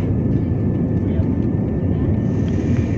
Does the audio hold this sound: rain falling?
no